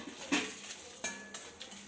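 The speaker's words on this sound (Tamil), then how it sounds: "ஆட் பண்ணிவிட்டு நல்லா வதக்குங்க." Whole spices sautéed in a pan (dried red chillies, coriander, fennel, cinnamon, cloves and cardamom), heard as a few sharp metallic clinks and scrapes of a spoon against the pan over a soft sizzle, close by with no talking.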